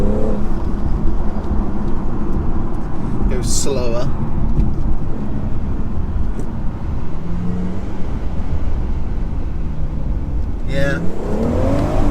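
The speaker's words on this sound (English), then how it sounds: "let's see if we can get any sort of burbles from the exhaust" Exhaust of a 2017 BMW 440i Gran Coupe rumbling steadily from inside the cabin while driving, with only soft burbles and brief engine swells, under people talking.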